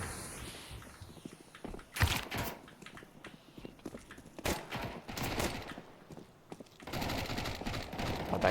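Gunfire in a Counter-Strike match at a professional esports event: bursts of shots and impacts around two, four and a half, and seven seconds, with footsteps and game noise between them and no talk.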